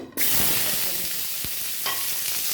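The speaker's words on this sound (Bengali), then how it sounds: "এখন ভেজে নেব।" Green tomatoes and potatoes with turmeric and salt hit a hot pan for a fish curry, bursting into a loud, close, continuous sizzle with occasional stirring scrapes.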